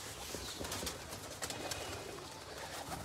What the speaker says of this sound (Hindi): सारे टैडी कबूतर हैं